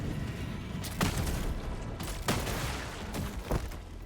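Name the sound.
gunshots in Helldivers 2 video game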